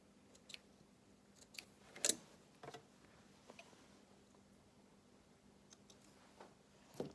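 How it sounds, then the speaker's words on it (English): Scissors snip a few times to trim loose threads after machine sewing a garment, giving faint, sparse close-up clicks and cuts in an otherwise quiet room. "Needle out of our work and trim our threads."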